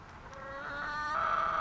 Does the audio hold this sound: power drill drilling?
no